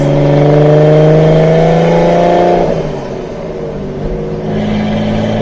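A 1972 Series 2 Datsun 240Z straight-six with Weber carburetors revving hard, a loud close engine note climbing in pitch, then dropping off and settling into a lower steady drone.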